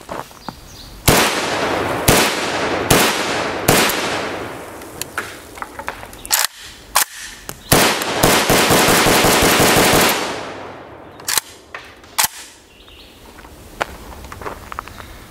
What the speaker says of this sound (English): Let's see if all these will go off in the M85.